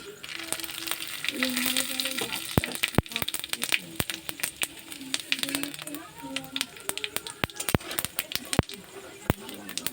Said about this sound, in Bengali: ফোড়নের মধ্যে আছে তেজপাতা এলাচ দারচিনি লবঙ্গ জিরে তেলটা গরম হয়ে এসছে এখন ফোড়নটা দিয়ে দেবো